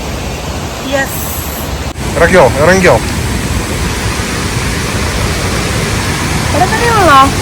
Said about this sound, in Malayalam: ഒരു വെള്ളച്ചാട്ടം കിടുകൻ കിടുകൻ വെള്ളച്ചാട്ടം അല്ലേ അപ്പോൾ ഞങ്ങളത് കാണാൻ പോവാം ശബ്ദം കേൾക്കാൻ പറ്റും ബാക്ക്ഗ്രൗണ്ടിൽ